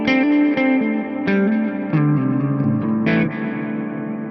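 An electric guitar plays through a Tonex spring reverb effect, loud and alone. Picked notes and chords ring out with a lush, washy reverb tail, and each new attack is swallowed into the lingering decay.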